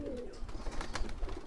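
Pigeons, including Allahabadi and high-flyer breeds kept for sale, coo softly amid a steady low rumble of background noise.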